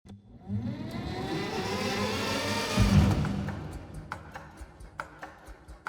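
A synthesized engine patch roars upward and swells, then fades into a series of sharp, evenly spaced ticking clicks.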